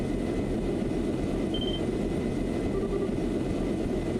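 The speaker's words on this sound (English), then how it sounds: "That's the sound of an airship engine." Steady low drone of an airship engine in Trails in the Sky SC, a continuous rumbling hum with no break, moderately loud and unwavering, with a couple of faint high tones flickering over it.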